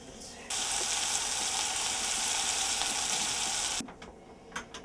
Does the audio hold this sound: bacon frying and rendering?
yes